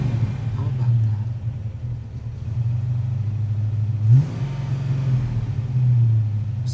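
A 1936 Plymouth Coupe hot rod fitted with hand controls idles with a steady low rumble, then its engine is revved in a brief rising burst near the middle and again toward the end, close and fairly loud.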